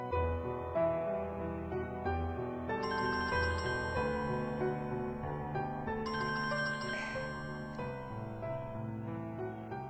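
A phone ringtone rings during an outgoing call, a repeating electronic melody with bright chiming tones. It plays steadily and clearly for the whole stretch with no voices.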